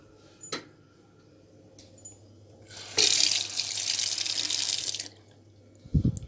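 Water from marinated cucumbers is poured off into a pot in a home kitchen, a loud rushing splash lasting about two seconds between quiet handling clatter.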